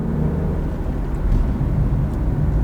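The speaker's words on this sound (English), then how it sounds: "So this is what the car sounds like. This is like normal driving, around 30 miles an hour." A 2022 BMW X3 M40i fitted with a CSZ exhaust cruising at about 30 mph, heard from inside as a steady, low rumbling drone with a constant hum and no revving.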